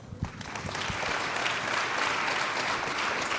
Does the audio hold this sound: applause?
yes